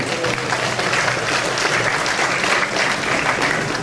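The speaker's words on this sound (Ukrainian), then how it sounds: "під бурхливі оплески всіх присутніх" Dense, sustained applause from a large crowd at a martial arts festival in Lviv, loud and even throughout with no pauses.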